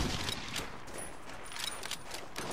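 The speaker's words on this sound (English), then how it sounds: "there's bullets flying past my head" Rapid gunfire from the World War II shooter Medal of Honor: European Assault, a dense, steady crackle of shots with brief louder bursts running throughout, close and continuous with no talk.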